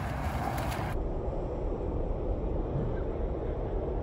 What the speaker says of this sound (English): That wind, man.